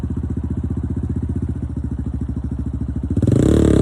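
Dirt bike engine held at a steady, fast-pulsing idle up close, then revving up sharply to a louder, rougher roar near the end.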